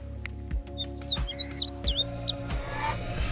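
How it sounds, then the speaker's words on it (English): Vividly colored birds give a quick run of sweet, rhythmic chirps and short warbling tweets, close and fairly clear, over a low steady background hum with a few soft thumps. "These vividly colored birds also make a sweet chirping noise that sounds like rhythmic music."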